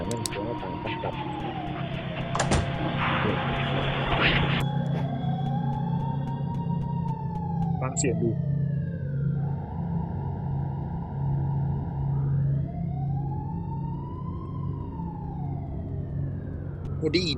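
A police siren in the Roblox game Residence Massacre wails in rising and falling sweeps over a steady engine drone, with voices talking over it throughout.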